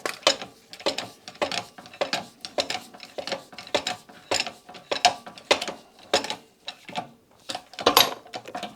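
Manual bearing press forcing an old bearing out, a close series of regular ratcheting clicks and metallic clunks as the handle is worked stroke by stroke, with no talk.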